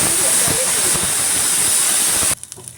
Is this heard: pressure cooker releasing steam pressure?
yes